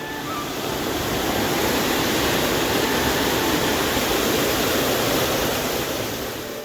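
A river swollen after rain runs bank to bank, making a steady, loud, broad rushing roar that fills the whole stretch without a break, with no talk.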